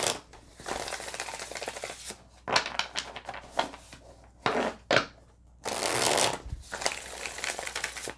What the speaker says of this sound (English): so let's pull some more oracle cards and see.